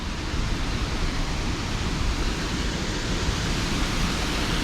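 Floodwater pours over a dam after massive flooding, a steady, loud broadband roar of rushing water that stays constant throughout, with no voices.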